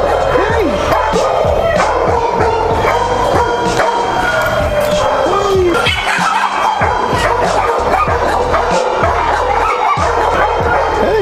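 Puppies yip and bark repeatedly at close range, a busy overlapping chorus of high yelps and whimpers that carries through the whole stretch, with people talking excitedly among them.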